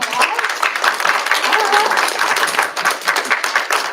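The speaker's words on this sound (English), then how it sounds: "We'll give you a round of applause." Applause for a student of the month at a school district governing board meeting, a steady round of clapping from the room lasting the full four seconds, with voices audible beneath it.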